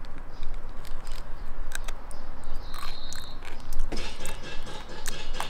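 Someone chews gritty Amur starfish flesh seasoned with curry and pepper, making close, repeated sandy crunching and biting sounds in an uneven rhythm.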